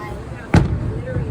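One sharp Fourth of July firework burst at an Emerald Bay show, a single loud boom with a brief tail, heard once amid distant crowd murmur.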